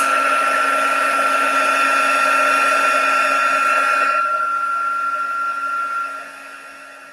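A heat tool blows a steady, loud whir while melting embossing powder for a Stampin' Up! card project, holding evenly for about six seconds before tapering off, with no talking.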